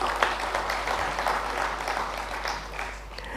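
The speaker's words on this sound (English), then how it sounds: "So let's welcome him as well with your round of claps." Steady round of audience applause greeting a speaker onstage at the opening ceremony of an international conference on sustainability education, dense clapping from a large crowd with a constant low hum beneath it.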